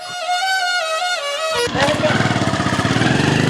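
A motorcycle kicks into life and runs, a close, loud chugging engine with fast regular pulses after a brief toned sound at the start, no clear talking.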